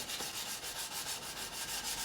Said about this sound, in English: I do have a sanding block with some 400 grit on there